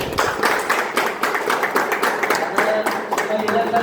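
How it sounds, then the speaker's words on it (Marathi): An audience at a birthday celebration claps for a performer, a dense patter of hands under someone speaking, fading toward the end. "त्याबद्दल सगळ्यांनी मिळून त्यांच्यासाठी टाळ्या वाजवल्या"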